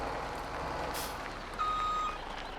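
A truck reverses in Farming Simulator 17, its backup alarm sounding a steady high tone over a low engine rumble, with a short hiss like an air brake partway through.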